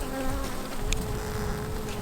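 Honey bees buzzing steadily around a hive where a new queen is being introduced, a dense continuous drone close to the listener with no pauses.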